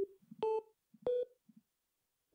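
Keypad dialing tones from a phone in the game Simulacra: a short sequence of distinct electronic beeps, some paired, separated by brief gaps, clear and close with no voices.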